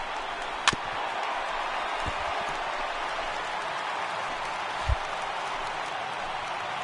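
A steady roar of a baseball stadium crowd of over 38,000 on its feet fills the air, a continuous wash of cheering with a couple of sharp thumps and claps.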